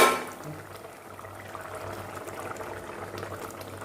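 Fish curry with tomato simmering in an open pot over medium heat, giving a steady low bubbling and soft boiling hiss that continues throughout without any talk.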